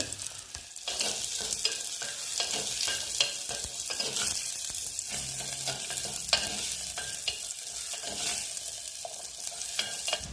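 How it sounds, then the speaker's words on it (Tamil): Chopped small onions sauté in a pan for a Tamil aloe vera tamarind curry, giving a continuous crackling sizzle broken by frequent stirring scrapes, close and steady with no voices. "சின்ன வெங்காயம் 2 கட் பண்ணி வச்சுருக்குறேங்க, அதையும் சேர்த்து நல்லா தொலாவிக்கலாங்க."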